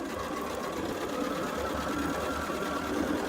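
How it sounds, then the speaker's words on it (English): Close and steady, a sewing machine runs continuously as it stitches rows of a quilt block together, a constant mechanical whir and rapid needle chatter with no talking. "I'm going to continue to sew"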